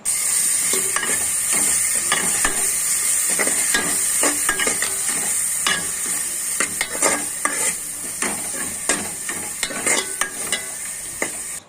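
Garam masala paste fries in a pan with a steady sizzle while a spoon stirs it in frequent scraping strokes, close and continuous, with no voices.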